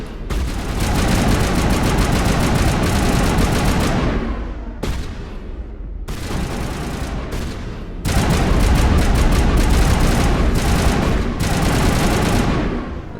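Sustained heavy gunfire from a Mass Effect battle, dense rapid bursts of shots that stop briefly around four and six seconds, then resume loud and continuous to the end.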